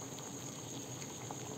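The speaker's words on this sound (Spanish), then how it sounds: "Ya está hirviendo los tomates y los chiles serranos para preparar la salsa." Tomatoes and serrano chiles boil for salsa in a pot on the stove, giving a steady, even bubbling hiss with no pauses and no talking.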